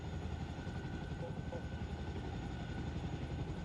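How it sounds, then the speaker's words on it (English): A helicopter in the military game Arma Reforger flies close by behind a building, its rotor thudding in a steady, loud, rhythmic drone throughout, with faint radio-style voices underneath. "helo is 285 from my pos, just the other side of that building."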